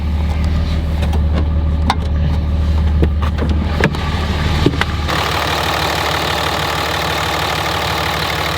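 A Cummins diesel truck engine idles steadily with a deep, low rumble and faint ticking, then the tone shifts midway as the engine keeps running.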